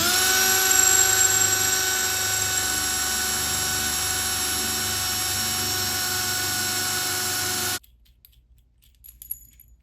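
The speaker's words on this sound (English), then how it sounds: "Now it's time to drill holes to fill in our eye bolts." A high-pitched power drill whines steadily, near and loud, boring holes for eye bolts in a high power rocket, then cuts off abruptly, followed by faint clinks and handling noises.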